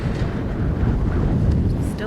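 Strong wind buffets the microphone outdoors in Crestone, Colorado, a steady loud low rumble that continues throughout with no pause.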